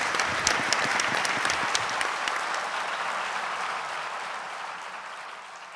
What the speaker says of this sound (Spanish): Así que un aplauso enorme para ustedes.